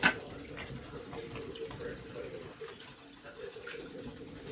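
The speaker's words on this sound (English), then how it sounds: "We're gonna put this in really cold water for a couple minutes." Cold tap water runs in a steady, faint splashing stream for several seconds, a soft hiss with small gurgles, no talking over it.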